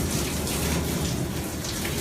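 A tap running for ablution, giving a steady, close splashing hiss of water that stays even for the whole short stretch with no voices.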